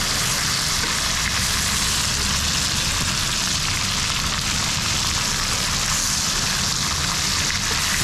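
Beef steak frying in a hot pan gives a steady, dense sizzle with fine crackling spatter, loud and continuous for the whole stretch with no voices over it.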